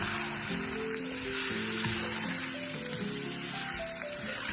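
Meat fries in a pan for a home-cooked okra and meat dish, giving a steady, moderate sizzle that runs throughout with no pauses, partly under background music.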